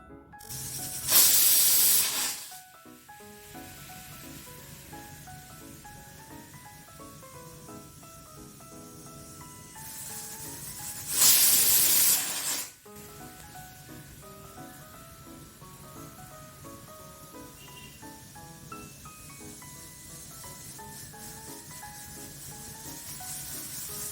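Pressure cooker on a gas stove cooking vegetarian ghugni with peas, giving two loud hissing whistle bursts of steam several seconds apart over a constant low rumble of the burner.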